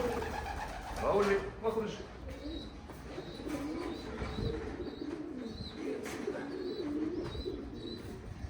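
Domestic pet pigeons in a loft coo softly and repeatedly in the background, steady low murmurs running beneath someone speaking throughout.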